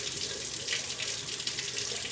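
Tap water runs steadily over a hand and fingers into a sink, a constant close splashing hiss with no voices.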